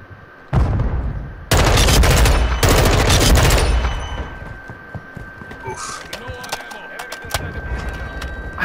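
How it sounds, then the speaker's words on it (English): A flashbang and a grenade go off in Call of Duty Modern Warfare 2, two loud sharp bursts followed by a ringing tone, with scattered gunfire and game noise trailing behind. "I'm throwing a flash and a grenade."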